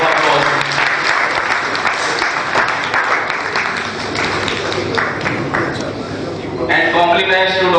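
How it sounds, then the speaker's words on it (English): Loud, sustained applause from a large audience at a pediatrics and neonatology medical conference in Udaipur, India, filling the whole stretch with dense clapping while voices carry over it and a brief musical tone rises near the end. "So please give him a big round of applause."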